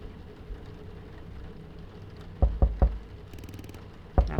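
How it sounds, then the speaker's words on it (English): Knocking on a door in the horror video game Last Report comes as three heavy thuds in quick succession, then one more a second later, over a low rumbling ambient drone. "Knock on the door."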